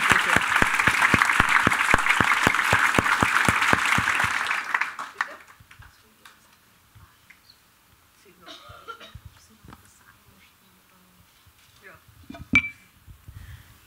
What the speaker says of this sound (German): Ich glaube, wir dürfen gerne eine Runde Applaus schenken.